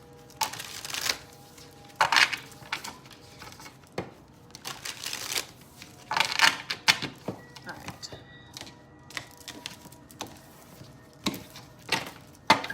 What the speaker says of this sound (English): I'm going to shuffle again a couple times